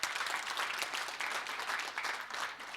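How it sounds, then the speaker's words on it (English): Applause from an audience at a national ICT summit welcoming the exhibitors, steady moderate clapping that swells and eases slightly over about three seconds. "Just give them a round of applause"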